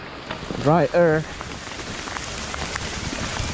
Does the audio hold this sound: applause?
no